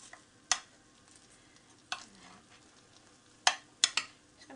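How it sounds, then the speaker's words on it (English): Oven-roasted vegetables with garlic and olive oil are stirred in a tray, giving a few sharp, close scraping clacks spaced apart over a faint background sizzle. "Just going to stir them round so that we get all the garlic cooked and all the olive oil mixed in."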